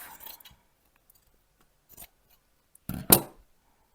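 Scissors snipping off extra pieces while making a compact ironing board for sewing projects: one short, close, crisp cut at the end after faint rustling and near silence.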